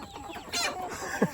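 Chickens clucking as they eat, a few short close clucks and calls rising near the end.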